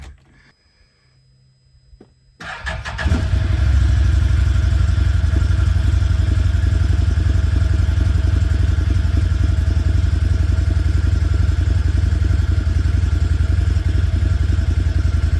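A Can-Am Defender HD8 side-by-side engine cranks and fires after a short quiet moment, then settles into a loud, steady idle that rumbles on alone right after an oil change.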